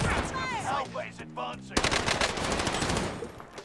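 An M1 Garand rifle fires in a Call of Duty Vanguard/Warzone match as a rapid, close burst of loud shots. A short electronic game tone and further crackling gunfire follow.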